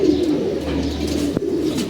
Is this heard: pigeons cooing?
yes